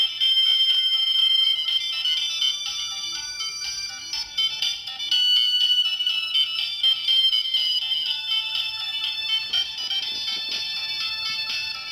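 Music comes through the vibrating actuator arm of an opened hard drive. It is a continuous, thin, buzzy, treble-only sound with no bass, fairly loud and close, and no one speaks.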